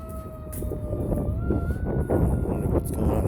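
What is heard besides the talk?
approaching siren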